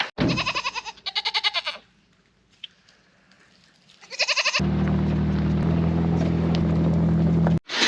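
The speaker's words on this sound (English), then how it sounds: "First up is we let the goats out because we have the evening milking." Goats bleat repeatedly up close in quick, wavering cries as they are let out for evening milking on a homestead, followed by a loud steady engine-like drone after a brief quiet gap.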